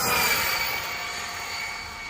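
An Arrma Mojave 6s RC car runs at full throttle, its electric motor giving a high, steady whine that fades slightly as it moves away, with no talking.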